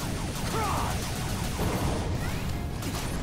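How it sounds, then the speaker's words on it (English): An explosion in the video game Mighty No. 9 bursts out as a dense, continuous roar of crashing noise, layered with whooshing game effects, lasting the whole moment at a steady loudness. "Ooh, explosion."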